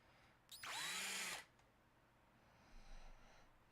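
Power drill driving screws, one loud continuous burst of about a second with a rising whine as the motor spins up and slows, close by, followed by quieter faint handling noise.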